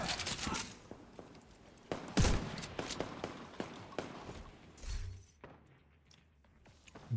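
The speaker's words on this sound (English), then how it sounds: "Different type of shooting." Video game gunfire, a rapid scatter of sharp bursts and cracks with a heavy thump near the two-second mark, fairly close and busy, thinning to quieter scattered shots toward the end.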